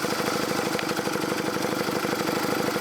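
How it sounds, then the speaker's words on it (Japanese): A Honda CB125K3 motorcycle engine runs steadily close by, a continuous mid-pitched idle with a fast, even pulsing throughout and no talk. "ヘッドライトをつけるとエンジンが回るんです"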